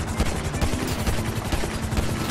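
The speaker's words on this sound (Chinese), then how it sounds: "开枪射他们啊！" Rapid bursts of gunfire crackle densely in an online shooting game set in GTA Online, loud and continuous with sharp repeated impacts and no voices.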